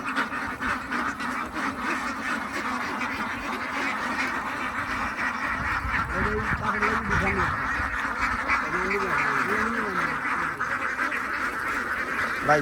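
A flock of ducks quacks in repeated bursts over a constant outdoor din, the calls growing busier and more overlapping toward the middle.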